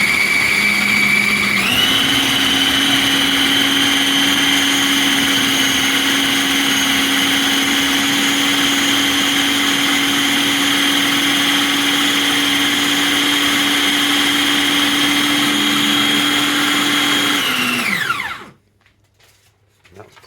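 A blender whizzes lemon juice with turmeric and ginger roots, a loud, steady high-pitched motor whine that spins up, holds for about sixteen seconds, then winds down and stops.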